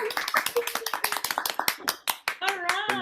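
Several people in an online graduation meeting clap through unmuted microphones, giving a thin, uneven burst of separate hand claps with voices speaking over it toward the end.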